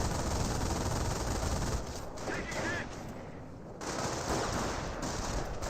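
Sustained gunfire in Company of Heroes aimed at a Schimmelwagen jeep, dense continuous bursts with a short lull in the middle before the shooting picks up again, loud and close.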